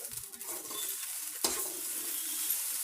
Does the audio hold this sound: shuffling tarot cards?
no